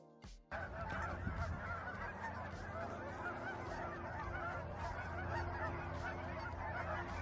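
Thousands of cackling geese mixed with Canada geese at a Colorado wetland park, heard as a sustained, loud wall of overlapping honks that swells in after a brief quieter opening.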